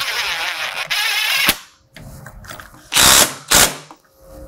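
A power tool tightens a bolt on a Razorback Offroad fixed glass windshield, with a long buzzing run, a brief pause, then two short bursts close up.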